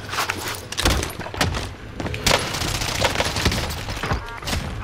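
Rapid bursts of Sykov pistol fire in a first-person shooter game, sharp cracks in quick clusters with thuds and impacts between them, loud and close.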